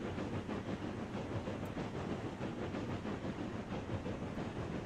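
A train in a video game rolls along in a steady, continuous rumble with dense rhythmic clatter and hiss, loud and unbroken throughout.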